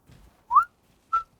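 A person whistles two clear, bright notes half a second apart, imitating a spring bird's call, alone with no talk around them.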